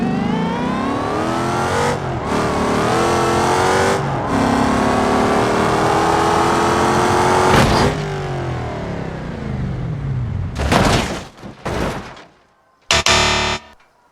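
Bracco Bastion car in a video game revving hard through rising gear changes, a loud close engine roar with sharp shifts, then brief bursts of engine noise and a sudden cutoff near the end.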